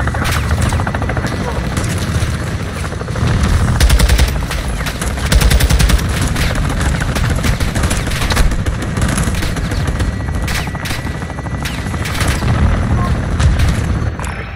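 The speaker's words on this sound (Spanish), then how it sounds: "Disparos alimentados por cinta debajo de la torre." Sustained bursts of belt-fed machine gun fire in the Call of Duty: Modern Warfare 2 campaign, loud and continuous with heavy booms and helicopter rotor noise, and radio voices talking under the battle.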